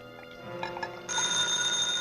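A telephone rings in an empty eighth-floor office building at night, a steady bright ring starting about halfway through and holding loud and alone after a quieter lead-in.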